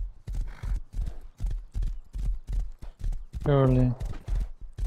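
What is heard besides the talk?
horse hooves clip-clopping in the Rust video game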